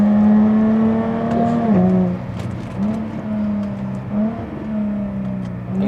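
A Jaguar F-Type sports car's engine revs loud and close, with a deep, rising growl that dips and swells again through several throttle blips.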